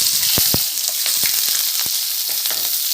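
Onion and green chilli sauté in hot oil for a cabbage poriyal, a constant bright hiss of frying punctuated by scattered spoon taps and stirring knocks.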